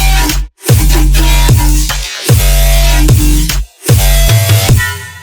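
Futuristic dubstep bass built on a Serum synth, heavy and very loud with deep sub-bass and gritty, buzzing upper layers, chopped into rhythmic bursts separated by brief silent gaps.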